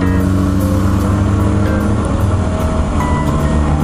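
A Mitsubishi Lancer Evolution V's engine gives a loud, close, steady low rumble that holds at a constant pitch and drowns out everything else.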